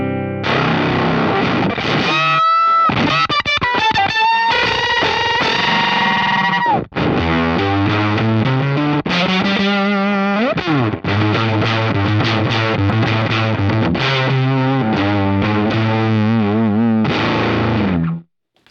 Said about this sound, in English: Sounds disgusting on the neck pickup. It's my octave fuzz, so I really love it.